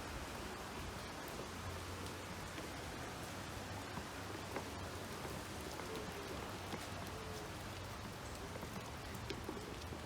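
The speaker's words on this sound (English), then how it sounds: "It is actually raining." Steady rain falls on a surface in a broad, even hiss with fine scattered drops, constant throughout with no voices.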